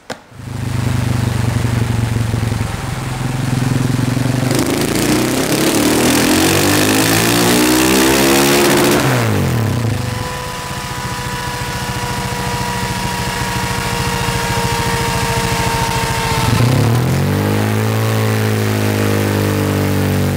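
A KTM 701 single-cylinder motorcycle with a Power Commander map revs on a dyno, climbing through long loud pulls that rise in pitch, drop back to idle between runs, then rev again.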